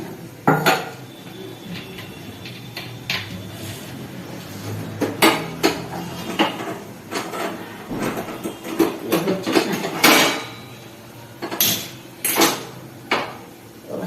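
Metal pots and utensils clatter in a home kitchen while water is put on for tea, a steady series of close, sharp clanks and knocks with brief pauses between.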